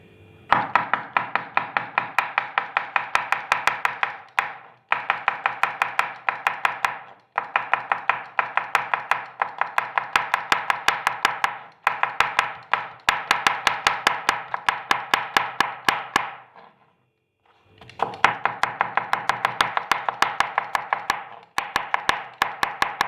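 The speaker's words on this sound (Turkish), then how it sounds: "Şimdi salatalığımı doğruyorum. Salatalığım da ince ince olacak." Knife finely chopping cucumber on a cutting board: rapid, evenly spaced close taps in long runs, broken by brief pauses.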